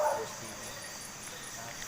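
A dog barks at the roadside, faint and somewhat distant, with a louder burst at the start and then lighter yips over steady background noise and a hint of voices.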